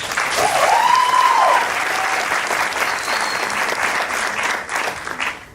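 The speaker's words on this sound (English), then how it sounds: "Can we give them a round of applause?" An audience at a public conversation event breaks into loud, sustained applause, dense clapping that holds steady throughout, with a brief whoop rising early on.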